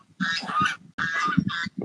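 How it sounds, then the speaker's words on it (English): Geese honk loudly and close by on an Oklahoma bass-fishing spot early in the morning, giving several harsh, rapid calls in two bursts separated by a short pause. "Watching the damn geese"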